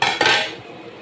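A spoon stirs beef sinigang in a metal pot, making two quick, close metallic clanks and a scrape, then fading.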